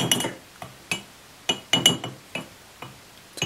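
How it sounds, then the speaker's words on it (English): Chunks of freshly baked calcium chloride dropped into toluene in laboratory glassware, giving sharp glassy clinks and ticks in irregular bursts, about ten distinct hits, close and clear with quiet gaps between. "So I will start by adding some freshly baked calcium chloride"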